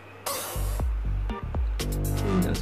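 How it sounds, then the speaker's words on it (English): Easy-Off kitchen degreaser spray bottle squirts several quick hissing bursts in close succession, loud and near, each spritz a short sharp spray with brief gaps between, over a low steady hum. "You just spray across the kitchen top part lightly."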